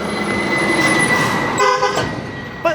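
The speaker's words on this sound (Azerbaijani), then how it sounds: "siqnalı belə burada pervallardan dönəndə siqnalı verir ki, birdən qabaqdan kimsə gəlir" A vehicle horn toots near a mountain-road bend in Sa Pa, Vietnam, sounding loud and close in short blasts over engine and road noise, with a final brief honk at the end.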